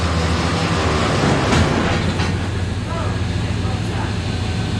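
A 1995 Silverado K1500 pickup running rough in four-wheel drive gives a loud, constant, grinding rumble with faint rhythmic clatter, and voices talk over it throughout.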